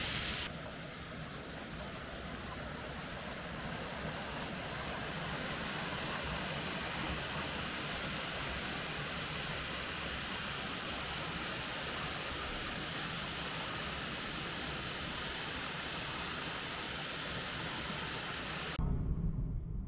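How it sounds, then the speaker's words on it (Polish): Steady, broadband rushing water roars continuously without break, like a high waterfall in Nakhon Si Thammarat, Thailand, heard from nearby, cutting off abruptly at the end. "Takiego wodospadu jeszcze w Tajlandii nie widzieliśmy."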